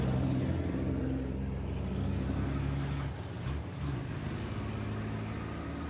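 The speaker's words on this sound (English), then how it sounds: "the trucks make their way out onto the circuit" Racing trucks roll out onto the Misano circuit during qualifying. A steady, low engine drone rumbles throughout, dipping briefly midway before resuming, with no commentary over it.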